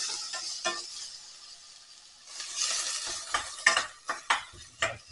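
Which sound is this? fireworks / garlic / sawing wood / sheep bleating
garlic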